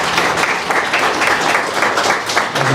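Audience at a youth symposium gives a sustained round of applause, loud and dense with many hands clapping steadily, a faint voice surfacing at the very end.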